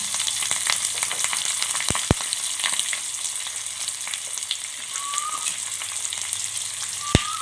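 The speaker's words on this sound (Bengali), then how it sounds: "এগুলো একটু নেড়ে চেড়ে ভেজে নেবো" Onion, garlic and capsicum frying and being stirred in a pan, a steady close sizzle throughout with a few sharp clicks from the spatula, no one talking.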